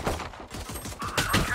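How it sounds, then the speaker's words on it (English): A swarm grenade in Valorant bursts into a rapid, close fusillade of sharp popping shots lasting just over a second, dense and crackling, in a busy game mix. "Swarm grenade out."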